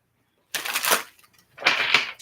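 Tarot cards being shuffled by hand, two separate bursts of papery riffling and sliding, close and fairly soft, with a short quiet gap between them and no talk over them.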